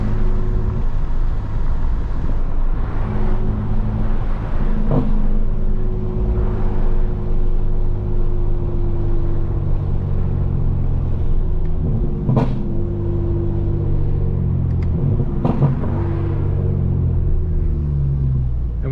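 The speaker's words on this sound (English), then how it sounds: "I am gonna mess with the burbles." A tuned 2025 BMW M4 Competition rumbles with a low, steady exhaust drone, broken by a few sharp pops and crackles as burbles fire on the overrun, heard from inside the car with no talking.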